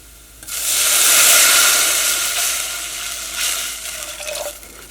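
Water pours into a hot pan for cooking ragi with a loud rushing hiss that swells quickly, then gradually settles into a softer bubbling sizzle.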